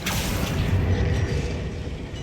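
A Confringo fire spell in Hogwarts Legacy bursts with a deep, rumbling boom, its heavy low-end blast holding loud and steady for about two seconds with no talk over it.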